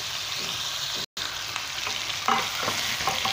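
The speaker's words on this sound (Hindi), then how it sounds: "जब तक इसका कलर चेंज होगा मैं इसको भून लूँगी।" Chicken for korma fries in a pan, a steady close sizzle with occasional stirring scrapes and one brief dropout, without talk.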